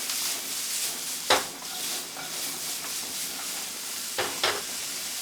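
Julienned ham and onions sauté in a pan for quail egg carbonara, giving a dense steady sizzle with a couple of louder scraping stirs.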